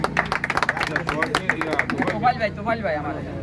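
Audience at a welcoming ceremony for an invited guest breaks into quick, lively clapping that thins into scattered claps, with voices and crowd chatter mixed in.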